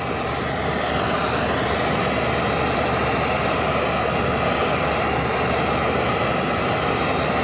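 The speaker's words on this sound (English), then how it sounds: "I'm going to take this torch and I'm going to heat it up in real time so you guys can see" A torch roars in a steady, loud, continuous broadband rush while it heats a part for a hot retorque, with no talking.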